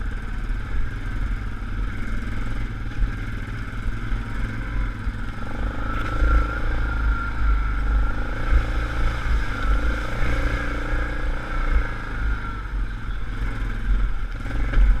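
An ATV engine labouring in low gear through a flooded river crossing on a rocky snowmobile trail, a steady loud drone with rumbling, splashing low end and occasional clatter, continuous for the whole stretch.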